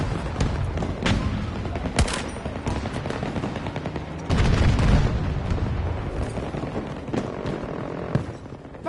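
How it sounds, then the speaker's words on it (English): A grenade blast in a Battlefield game hits amid steady gunfire: a deep, loud boom swells out of a dense, continuous roar of shots and rumble, while crackling fire keeps going around it. "Grenade, get down!"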